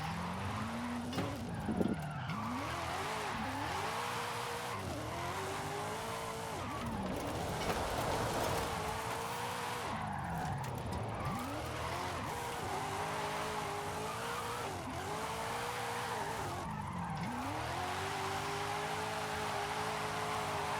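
A car drifting with its tires squealing and skidding in long, repeated wails that rise and fall, over a constant engine roar.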